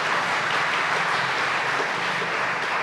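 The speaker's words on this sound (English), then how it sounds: "Let us give them a round of applause." Church congregation at a Novena Mass applauding guild members and the choir, a dense continuous wash of many hands clapping at steady loudness, filling the space without pause.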